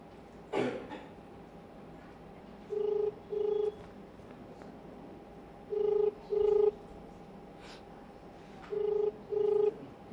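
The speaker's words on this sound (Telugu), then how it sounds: "ఆయనకు ఒకసారి ఫోన్ చేద్దాం." An outgoing telephone call rings back in three evenly spaced pairs of short tones, faint and steady over a quiet line hum, with a brief cough and a few small clicks near the start.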